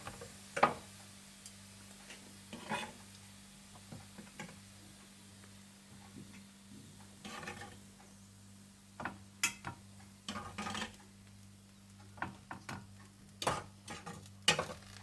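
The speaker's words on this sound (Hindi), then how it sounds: "और इसी तरह से आप बाकी चिकन को भी ग्रिल कर लें।" Chicken grilling in a pan gives a faint, low sizzle beneath scattered sharp ticks and clicks of utensils, irregular and fairly quiet throughout.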